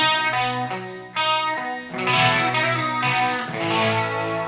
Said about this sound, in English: he uses delay to make it sound like it's a reverb